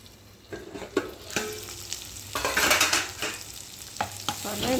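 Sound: vegetables being sautéed and stirred for mushroom biryani

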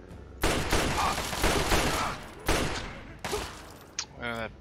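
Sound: pistol gunfire in Fallout 3 video game

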